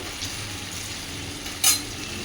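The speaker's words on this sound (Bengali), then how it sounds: "আমি তেল দিয়েই ভেজে নিই বেশ ভালো করে ভেজে নিতে হবে লাল লাল করে" Potatoes frying in oil, a steady hiss of sizzling with a brief sharper clink of a utensil near the end, close and moderately loud with no talking.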